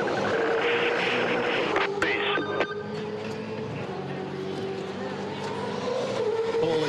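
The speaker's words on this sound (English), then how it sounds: "Still cranking it. This thing won't go," A race car at a pitstop during the Clipsal 500 in February 2008, with a sequential gearbox, stalls and keeps cranking without starting. Its loud, sustained mechanical drone is mixed with a tonal whine and surrounding racing noise, and a voice is faintly present.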